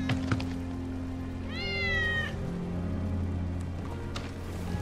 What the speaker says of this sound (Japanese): ウェッジの猫だ。